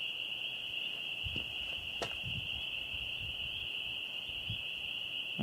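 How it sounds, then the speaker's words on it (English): Frogs calling on an evening at the end of winter: a steady, high-pitched trilling chorus held throughout, with a few faint low thumps and a brief click beneath it, no talk. "You can hear the frogs croaking away."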